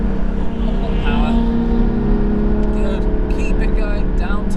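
A Porsche Cayman GT4 accelerates hard around a track, its engine drone steady and loud from inside the cabin, while an instructor talks over it throughout.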